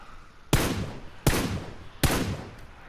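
M416 rifle in PUBG fired on single-fire mode: three loud, evenly spaced shots about three quarters of a second apart, each with a short ringing tail.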